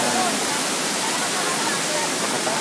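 Tinago Falls waterfall in a forest at Culaba, Biliran, Leyte, gives a steady, dense roar of falling water that holds constant throughout without a break.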